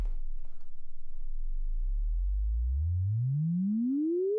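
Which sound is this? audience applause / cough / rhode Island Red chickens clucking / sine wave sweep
sine wave sweep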